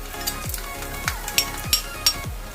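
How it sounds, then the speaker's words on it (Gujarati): Mustard seeds, cumin and asafoetida sizzle in hot oil in a pan, giving a steady crackling hiss broken by several sharp metallic stirring clinks, close and without voices. "તો રાઈ જીરું ક્રેક થઈ ગયું છે. તો હવે આપણે એની અંદર આ હિંગ નાખી દઈશું"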